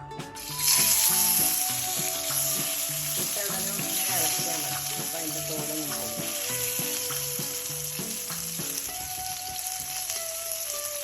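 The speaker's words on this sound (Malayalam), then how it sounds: "നമ്മൾ നേരത്തെ മാരിനേറ്റ് ചെയ്ത് വെച്ച മീനാണ് ഇത്. ഇനി അത് വറുത്തെടുക്കണം." Marinated fish sizzles steadily in coconut oil in a pan, a constant loud frying crackle that runs throughout, with light music in the background.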